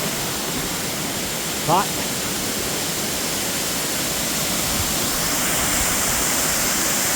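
Faurara Falls, a jungle waterfall in Tahiti, gives a steady, dense rushing roar from start to finish, with a brief spoken word early on.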